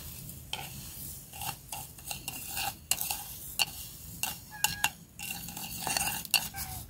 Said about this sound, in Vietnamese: Đường mình bỏ vô mình trộn luôn nha.